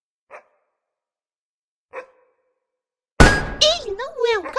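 Dog barks in a horror-style video game with evil animatronics: two short, isolated barks spaced well apart, then a loud burst of crashing noise with a wavering, howling tone.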